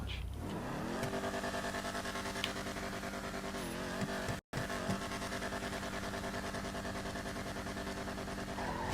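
Drag-style car launching and accelerating in GTA V, engine revving up hard through rising harmonic tones, loud and close, with one abrupt brief cut mid-run and no talk.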